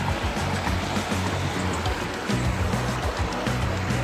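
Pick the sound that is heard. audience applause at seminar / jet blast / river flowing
river flowing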